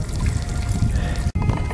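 Water trickling steadily into an outdoor hot-spring foot bath at a lookout, a soft continuous dribble and splash with a brief dropout near the end.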